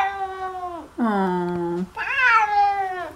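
A cat lets out three drawn-out, wavering meows in quick succession, close and fairly loud, the middle one lower and growling.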